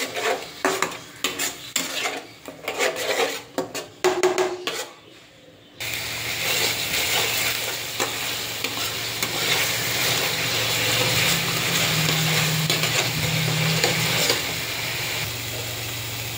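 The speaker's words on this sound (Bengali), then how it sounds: "ভালো করে মশলাটাকে কষিয়ে নিতে হবে" A spatula scrapes and stirs a ginger, garlic and green chilli paste frying in a pan for a yogurt katla fish curry. Sharp metallic clatters come first, then a steady close sizzle with continuous stirring.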